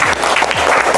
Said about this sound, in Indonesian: Berikan aplaus untuk kelompok 7